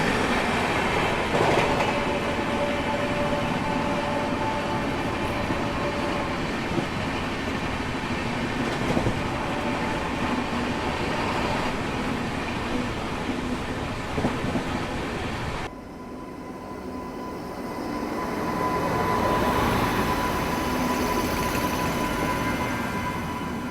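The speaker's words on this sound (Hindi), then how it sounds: "Overtaking Tamil Nadu Express." A Rajdhani Express train runs alongside and overtakes the Tamil Nadu Express, with a steady loud rumble of wheels and carriages, rhythmic clacks, faint squeals and a sudden shift in tone partway through.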